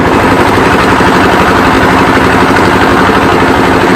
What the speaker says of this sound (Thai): ตอนนี้เรือก็กำลังจะออกจากท่า